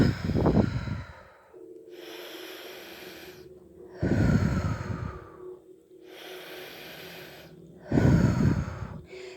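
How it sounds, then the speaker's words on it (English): Slow, deliberate breathing cycles, in through the mouth and out through the nose: three loud, close exhales or snorts spaced about four seconds apart, each followed by a quieter, longer inhale. "I breathe it in through my mouth and out through my nose"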